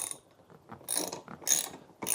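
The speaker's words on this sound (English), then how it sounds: "we're using a Torx T50 to remove the big bolt" A Torx T50 bit turning out the large top seatbelt bolt behind the rear quarter trim of a Jaguar XK8/XKR, giving a few close, quiet bursts of ratcheting clicks separated by brief pauses.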